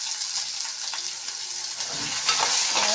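Tomato pieces sautéing in a pan with onion, ginger, garlic and cashews for a vegetable kurma: a steady close sizzle with a few stirring scrapes toward the end, no voices.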